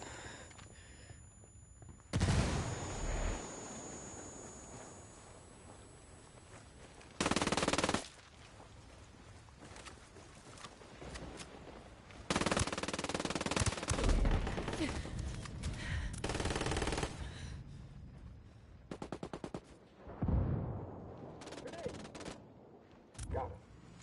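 Heavy machine gun fire rattles through a Ghost Recon Wildlands online firefight, with long sustained bursts and scattered shots layered over constant battle noise, loud and close, with voices calling out at times.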